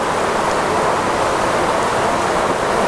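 Heavy rain in the dry season falls in a steady, dense hiss of even loudness, with no pauses and no voices.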